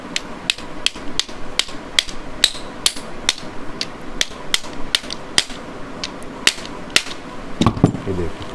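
A hammer taps a pin into the gear shift shaft assembly of a Royal Enfield RD 350 motorcycle: a steady run of sharp, close metallic knocks about every half second, with a brief clatter near the end.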